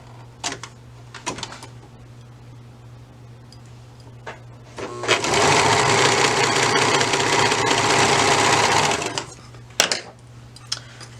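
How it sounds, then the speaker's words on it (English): A sewing machine stitches the gusset seam of a pair of tights in one steady, loud run of about four seconds. Quieter handling noises come before and after it, with a low constant hum underneath. "And I'm going to go ahead and sew that."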